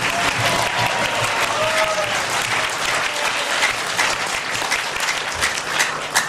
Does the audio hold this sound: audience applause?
yes